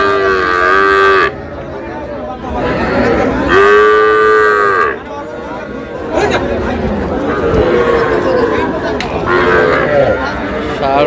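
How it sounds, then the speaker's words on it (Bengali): A young Sahiwal bull calf at a busy cattle market in Ambari, Dinajpur lets out several long, loud moos close by, amid crowd chatter and people talking. "শাহিওয়াল ষাঁড় বাচ্চা।"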